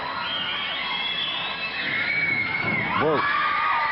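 Lively wrestling match crowd cheering, whooping and shouting loudly without pause, a near, dense roar with a voice briefly exclaiming near the end.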